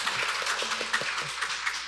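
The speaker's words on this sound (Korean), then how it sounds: "예, 박수 부탁드리겠습니다." Audience applause at a literary event at the Seoul International Writers' Festival, a dense steady patter of many hands clapping throughout, fairly close and even in level.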